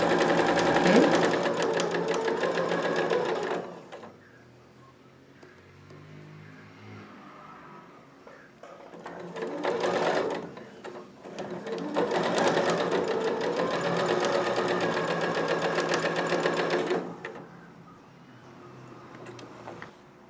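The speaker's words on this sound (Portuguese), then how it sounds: "E agora eu passo a costura direto até lá." A sewing machine runs a quilt block seam in long steady bursts of rapid stitching, close and clear, pausing between runs while a voice speaks quietly.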